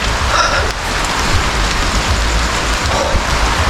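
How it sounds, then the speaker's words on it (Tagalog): Heavy rain pours down at a cemetery, a steady, loud, dense hiss of drops on surfaces that continues unbroken for the few seconds, with no voices. "Lumakas yung ulan."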